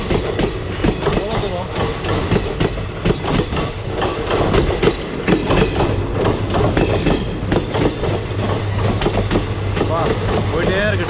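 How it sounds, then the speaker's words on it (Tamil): A train rumbles past on the track with steady clattering wheel noise and dense mechanical roar, close and loud throughout, with someone shouting over it in the outdoors near a trekking route by Dudhsagar waterfalls. "போயிட்டே இருக்கு ட்ரெயின்."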